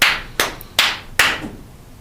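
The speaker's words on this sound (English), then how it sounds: "So you finish your claps, 1, 2, 3, 4, and you bow that way." Four sharp, close hand claps close out a theatrical percussion piece. They land at an even, deliberate pace, each crisp strike decaying briefly into quiet before the next.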